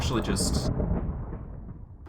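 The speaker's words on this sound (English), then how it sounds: "Jeez, the lightning's loud." Thunder from lightning in the video game Sevtech Ages, a loud close crack that rolls into a deep rumble and fades over about two seconds.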